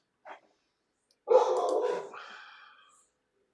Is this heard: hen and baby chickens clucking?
no